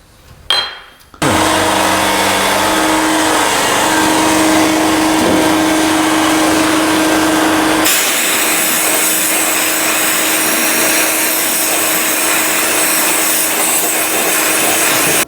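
Loud, continuous hissing blast of a sandblaster stripping rust from an old truck cab's chassis, starting abruptly after a brief clunk and roaring on steadily with a droning compressor tone underneath.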